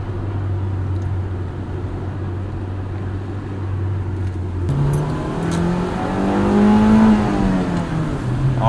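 Steady engine hum shifts into a rising rev as a 1998 Acura Integra GSR sedan accelerates, peaking near 6,500 RPM and dropping back, heard loudly from the cabin.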